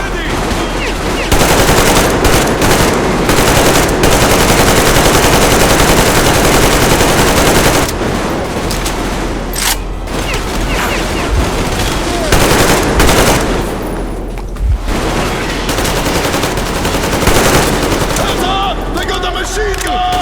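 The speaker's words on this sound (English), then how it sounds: "Machine gun!" Sustained machine gun fire from the video game Metro Exodus, loud and dense bursts running almost continuously for about twenty seconds with short gaps, shouting voices mixed in.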